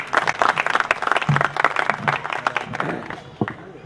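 An audience at a Hindi poetry recital (kavi sammelan) breaks into lively applause to welcome the poet Bhagwan Makrand, a dense burst of clapping that gradually thins and fades out by the end.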